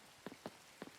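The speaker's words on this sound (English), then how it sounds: "This has turned into a bit of a chilly rain." Chilly rain in the farming game Coral Island, with a few soft, close drops tapping briefly and separately against a quiet background.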